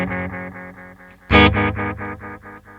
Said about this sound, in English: We've set to a much shorter delay time,